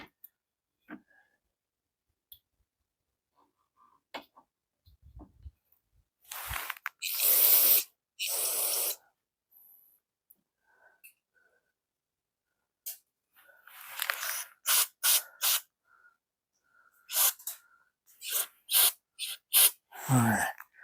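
Carburetor cleaner sprayed through the ports of a carburetor being cleaned, heard as several loud hissing aerosol bursts, two long blasts early on, then a run of shorter spurts, close up with faint sounds between.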